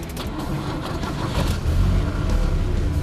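A car engine cranks and catches, settling into a steady low idle, close by with no talk.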